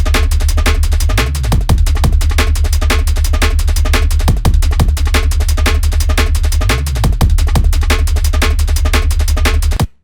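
A rolling jungle sub bass made in the Serum 2 synthesizer, playing under a looped breakbeat: a deep, constant sub with wobbling movement beneath crisp, busy kick, snare and hi-hat hits, loud and unbroken throughout.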